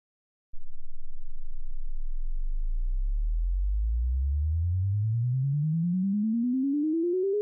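Synthesized sine tones generated in ChucK, a loop stepping through MIDI notes 0 to 127 that climbs steadily in pitch. It starts as a low rumble and rises into a clear tone, loud and continuous, with no speech.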